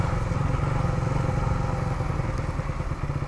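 A motorcycle ridden along a hill road with tight curves, its engine a steady close rumble with a rapid pulsing beat that holds at an even level throughout, with no talk.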